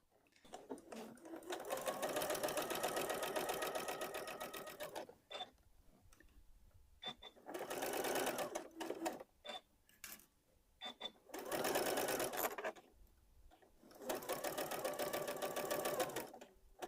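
Sewing machine stitching pieces of a LeMoyne star quilt block, whirring in four steady runs of a few seconds each with brief pauses and light clicks between, close and clear with no voices.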